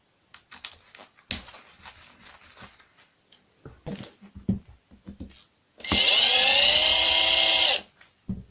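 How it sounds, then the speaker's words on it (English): A loud, steady high-pitched whine of an impact driver loosening screws on a radio-controlled car's differential runs for about two seconds, following scattered clicks and clanks of handling metal parts. "If you use a power tool, impact driver"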